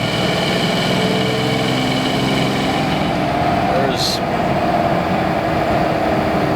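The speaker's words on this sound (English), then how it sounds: "if I stand on the gas pedal and let it go" A car engine runs with the gas pedal floored on a road in Mexico, making a steady, loud, dense drone that holds constant throughout, heard from inside the car.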